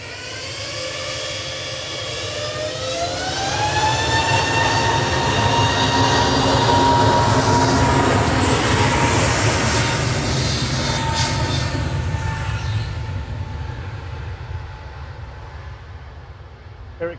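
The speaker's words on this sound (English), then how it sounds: "Here it comes, A330neo 900. Coming in from Atlanta for Virgin Atlantic with VS110." Virgin Atlantic Airbus A330neo arriving from Atlanta to land at Manchester Airport, a steady loud jet roar with rising and falling engine whine that swells toward the middle and fades slowly, with faint voices underneath.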